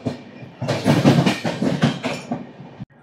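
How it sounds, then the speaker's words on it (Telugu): Double-decker Uday Express train rolling into Samalkot Junction, a rising rumble with rhythmic wheel clatter over rail joints, loud and close for about two seconds before cutting off, no speech. "మన ట్రైన్ అయితే ప్లాట్ఫామ్ నెంబర్ 3 మీదకి అయితే వచ్చింది"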